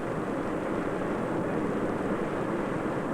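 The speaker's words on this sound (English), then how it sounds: "while the jet plane flies over the green farmlands of the Middle West" Steady, even jet roar from a Douglas DC-8-12 airliner cruising in flight, a continuous broadband drone with no breaks, heard alone at moderate level.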